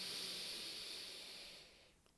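One long, deep breath slowly let out in a breathing exercise for mindfulness, a close, airy hiss that steadily fades to near silence.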